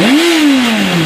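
A 2000 Kawasaki ZR-7 motorcycle engine revs hard and close, its pitch climbing quickly and then easing back down in a loud, steady roar.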